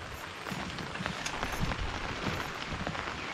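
Rain begins falling over a field partway through ploughing, a steady broadband hiss of drops with scattered soft patters, continuous and fairly close, with no voices.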